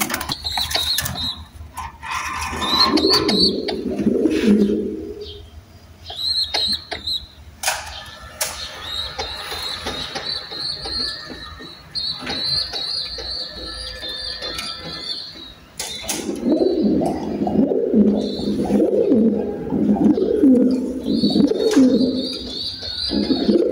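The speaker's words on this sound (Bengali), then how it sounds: "কবুতরের কাছে আসলে কবুতর ডাকটা আসলে সেই ভালো লাগে" Rooftop pigeons coo in repeated soft bursts, with faint chirps and occasional mechanical clatter in between, close by and without talk.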